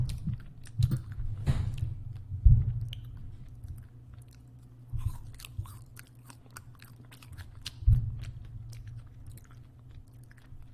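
Fried okra chewed close to the mic in an ASMR eating session, with soft crunchy bites and wet mastication recurring through the quiet, a few sharper crunches standing out.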